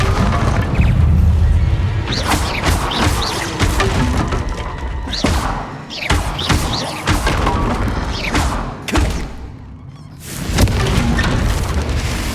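Bombarda spell blasts in Hogwarts Legacy combat: a dense run of loud booms, thuds and crashing impacts going off one after another over a continuous rumbling game soundscape.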